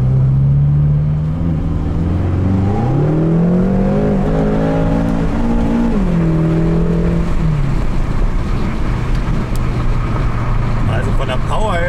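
BMW M car engine accelerating hard during a driving tour, a loud continuous rising drone with gear-change dips, heard from inside under someone talking.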